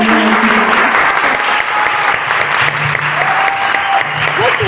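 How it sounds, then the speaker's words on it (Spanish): An audience at a talk on reclaiming public space through cinema bursts into loud, sustained applause, dense clapping filling the room with a few voices mixed in. "les pido por favor un fuerte aplauso"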